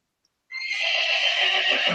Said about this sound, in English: Oh, horse. wow. Horsey.